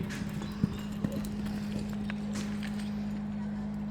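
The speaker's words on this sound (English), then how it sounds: "Cowgirl number 12 on your program. Keely Pugh, you can ride in." Horse hooves clip-clop on arena dirt as a cowgirl rides into a rodeo breakaway roping arena, a few distinct hoof thuds early, then softer steps under a steady hum and murmuring voices.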